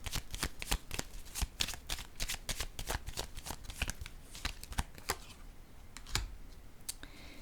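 Playing cards, tarot-style, shuffled in a run of rapid crisp riffling snaps and then laid down with a few sharp slaps, close and fairly quiet, with no talking.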